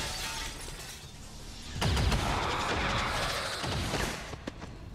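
Video game gunfire breaks out in a tactical turn-based match, with a sudden loud burst of shots and crashing impacts, then a scatter of fainter sharp cracks over a steady background.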